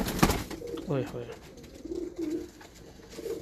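Salara pigeons just let out of a breeder's loft coo in low, brief bursts close by while a man calls out and talks over them.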